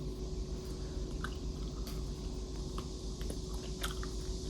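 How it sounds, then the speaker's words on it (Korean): A half-and-half Johnsonville hotdog with ketchup being eaten, soft faint chewing and squishy bites over a steady background hum, with no talking. "라한슨빌의 반반 핫도그를 후딱 먹어주고"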